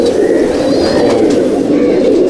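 Pigeons in a large loft coo and murmur in a dense, continuous chorus, close and loud, with a few higher chirps above the steady throaty hum.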